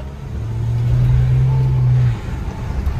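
A Mahindra Thar and a Maruti Celerio accelerate in a drag race with a rising, droning engine roar that holds steady for a couple of seconds and then drops away.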